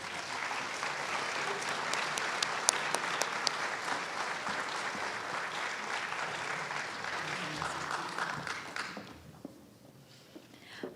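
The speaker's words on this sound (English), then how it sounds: "so please give her a round of applause" Audience at a Martin Luther King Jr. Day celebration applauding a student about to read her essay: steady, fairly close applause with a few sharp claps, fading noticeably near the end.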